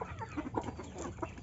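Free-range village hens (ayam kampung) gathered together on a farm, clucking in soft, overlapping bursts at close range, with a steady low murmur of the flock underneath and no talk.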